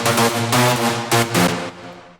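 A synth mono lead and a pumping press chord play together in a house drop, bright stabbed chords over a steady bass, loud and close with no voices.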